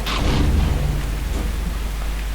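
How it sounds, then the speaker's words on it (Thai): Rain falls with a rolling rumble of thunder in the Half-Life 2 video game, a loud burst of downpour and thunder at the start easing into a steady hiss of rain. "ฝนตก"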